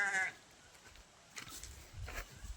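Sheep in a flock bleat in short, faint calls, one near the start and a couple more later against quiet outdoor background.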